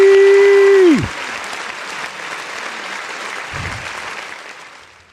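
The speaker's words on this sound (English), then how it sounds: "So I got to clap it up for Jacob Collins." Clapping on a 49ers draft day breakdown after a loud descending tonal sweep; a dense burst of applause-like noise carries on steadily, with a brief low thump midway, no speech.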